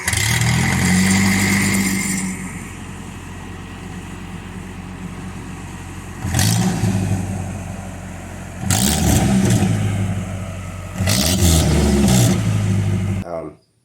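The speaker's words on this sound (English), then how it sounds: "It was not a good sounding no exhaust. It was loud." A Nissan Hardbody truck running with no exhaust revs loudly in three or four harsh bursts, dropping back to a rough, raspy idle between each blip.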